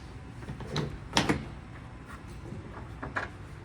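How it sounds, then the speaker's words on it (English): A Peterbilt 362 truck door latch clicks and the door swings open with a couple of sharp metallic clunks, close by, with faint room noise around it. "Pull the little handle over here."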